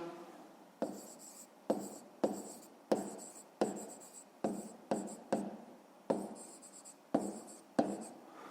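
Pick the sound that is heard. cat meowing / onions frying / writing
writing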